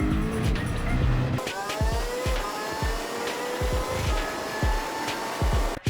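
A Group 1 race car in Gran Turismo 7 at Le Mans, engine revving through downshifts under hard braking then climbing again under acceleration, with rapid repeated engine pulses and brief tire squeal, loud and close throughout.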